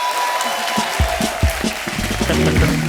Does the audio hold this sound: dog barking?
no